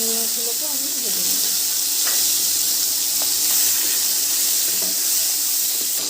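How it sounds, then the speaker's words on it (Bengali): Prawns, coated in salt and turmeric, sizzling steadily in hot oil in a pan, a continuous bright crackle with a few faint clinks. "চিংড়ি মাছগুলোকে আমি ভেজে নেব"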